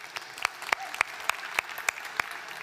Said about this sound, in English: I would like to give a big round of applause to the panelists and all the speakers that have come on tonight.